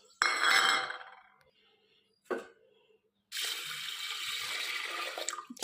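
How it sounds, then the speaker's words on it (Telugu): One cup of toor dal lentils is rinsed in water for raw mango dal, with a short splash, a faint clink, then a steady rush of running water near the end. "శుభ్రంగా 2 సార్లు కడిగేసుకొని పప్పు పక్కన పెట్టేసుకుందాం"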